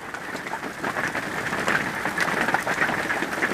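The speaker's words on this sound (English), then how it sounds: "it's actually hailing a little bit." Light hail mixed with rain falls outdoors, a steady fine patter of scattered small impacts and drops close by, with no talking.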